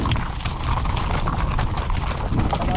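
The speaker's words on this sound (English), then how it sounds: "looks like there might be a group of horses we're meeting up with over there" Horse hooves clip-clop in a steady walking rhythm, loud and close, over outdoor background noise, from horses on a group trail ride.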